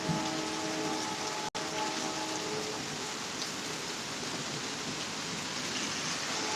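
Heavy rain pours steadily during a severe thunderstorm in Pittsburg, Kansas, a dense continuous hiss with one brief dropout, no voices.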